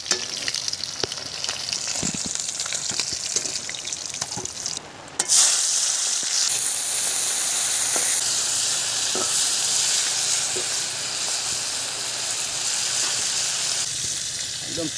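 River fish such as bele, chenga and prawns sputter in hot oil in a home kitchen, a steady dense sizzle that swells louder after a brief dip, with occasional stirring clicks and faint talk underneath.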